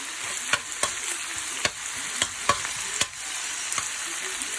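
Garlic fries in oil in a pan for pancit guisado, a steady close sizzle punctuated by about ten sharp clicks and scrapes of a utensil stirring.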